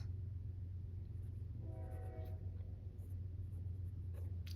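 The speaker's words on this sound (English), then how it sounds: "The trains." A train rumbles past in the distance, a low steady drone with a faint horn-like tone rising briefly in the middle.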